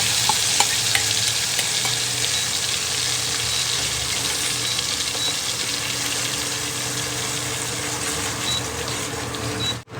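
Kashmiri dum aloo gravy cooks and is stirred in oil: continuous close frying sizzle with occasional soft scrapes and clinks of the spoon, no talking, cutting off abruptly at the end.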